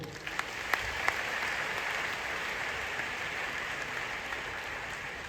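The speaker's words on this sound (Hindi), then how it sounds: "ताली होनी चाहिए" A large crowd of several thousand applauding at a DXN business seminar in Patna, a soft, even roar of clapping heard from a distance, with a few sharper individual claps near the start.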